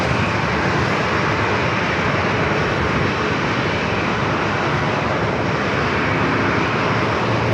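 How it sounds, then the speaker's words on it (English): An Air Canada Airbus A220-300 arriving at San Diego airport, its engines a loud, steady broadband roar that holds close and constant for the whole stretch, with no voices over it. "Up next, Air Canada Flight 1093 coming in from Toronto, Canada. Airbus A220-300."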